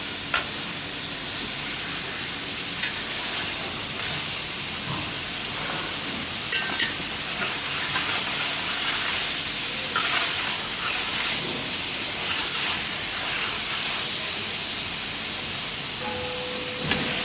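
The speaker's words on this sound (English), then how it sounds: "try and sear the lamb on medium heat" Lamb searing in a pan on medium heat crackles and sizzles continuously, a dense close hiss with scattered pops and occasional stirring scrapes, no voices over it.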